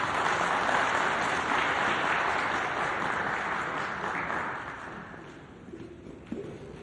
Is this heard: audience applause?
yes